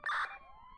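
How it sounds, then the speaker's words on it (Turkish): A police car siren in the GTA 5 video game gives a brief, loud wail that quickly fades into a lingering tone, heard alone with no talk. "Sirenleri kapatalım."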